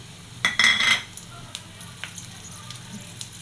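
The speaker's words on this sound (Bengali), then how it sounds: "এখন এর ভিতরে দিয়ে দিব জিরে আর কাঁচামরিচ ফোড়নে" Cumin and green chili tempering hitting hot oil in a kadai, a brief loud burst of sizzling near the start that quickly fades into a quieter steady fry with a few light utensil taps.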